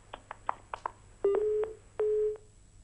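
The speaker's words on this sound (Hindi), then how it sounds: "चलिए फोन लगता है कट गया।" Telephone line tones as a call drops during a radio phone-in show: a series of short beeps, then two long steady tones, heard alone without talk.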